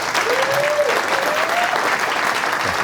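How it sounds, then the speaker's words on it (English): Loud, dense audience clapping welcoming Chesa Boudin to the stage at a speech event, steady throughout with a faint whistle-like tone and crowd murmur mixed in. "let's put some work in and clap it up and give a good introduction for Mr. Chesa Boudin."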